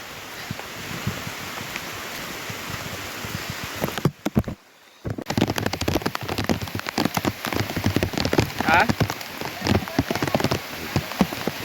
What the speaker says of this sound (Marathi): आत्ता पाऊस मोठं होईल, मगाशी पण होतो दुपारी, पण आता अजून मोठं होईल पाऊस